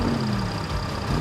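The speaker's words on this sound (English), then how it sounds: "Listen to those engines roar." Tank engines rumble and roar together at a race starting line, a steady, dense low drone sustained without a break.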